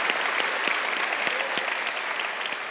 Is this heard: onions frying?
no